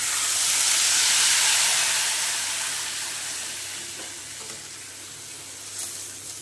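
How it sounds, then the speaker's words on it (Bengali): Hot water poured into a pan of frying potatoes and spices sets off a loud, broad sizzle and hiss that surges early, then slowly settles into a steady simmering crackle. "এইবারে দিয়ে দেবো জল।"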